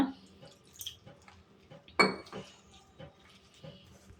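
Onion pakoda batter being mixed in a bowl, with soft irregular scraping and clinks from a utensil against the bowl and one sharper knock midway, fairly quiet overall.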